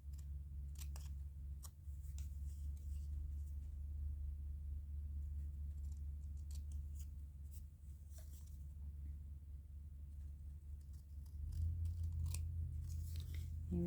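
Scissors snipping through a paper strip in a craft session, several soft scattered cuts over a quiet low background rumble, with no talk.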